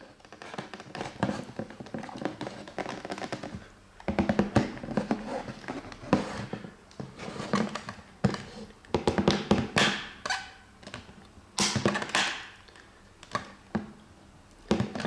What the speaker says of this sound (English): the RB button on this controller actually sounds like this.